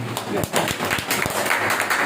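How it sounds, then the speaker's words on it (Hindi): An audience at a school Gandhi Jayanti gathering bursts into brief, lively clapping, with scattered sharp hand claps and a voice faintly present. "इसलिए जोरदार ताली होनी चाहिए"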